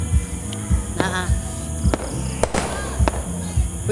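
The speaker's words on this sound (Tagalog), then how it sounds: "Kana nay fireworks display." A 2026 fireworks display sends out a string of sharp pops and crackling bursts at irregular intervals over a steady background, with people's voices nearby.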